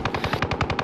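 A rapid automatic burst of video game gunfire in Rebirth Iron Trials, about eight close, evenly spaced shots in under a second.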